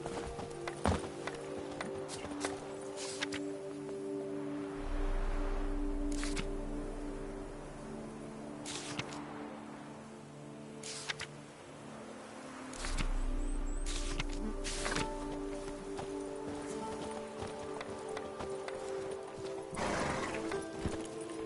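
Roach, a horse in The Witcher 3: Blood and Wine, clip-clops in a steady gallop through most of the stretch, neighing and whinnying now and then, with game music and ambience underneath.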